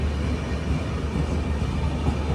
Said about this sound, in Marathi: आता मांडवी मांडवी ट्रेनचं आगमन झालं